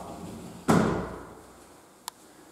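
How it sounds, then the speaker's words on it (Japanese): A door in an apartment room, south-facing Western-style bedroom, opened with a single solid thud and short decay, then a small sharp click a moment later, in a quiet room. "こちらの扉を開けていただきますと、旅行の洋室に行けるようになっております。"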